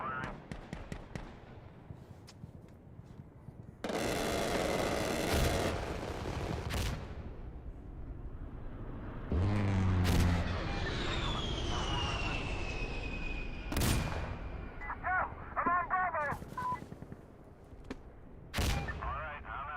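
Heavy booming blasts of artillery fire in a video game, a few loud separate impacts spread across the stretch with rumbling tails, mixed with radio chatter and other game noise while people talk over it.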